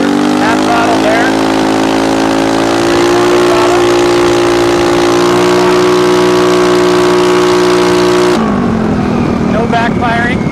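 A carbureted engine held at half throttle drones loudly and steadily with a strong, even hum, then its tone shifts abruptly near the end as the throttle changes.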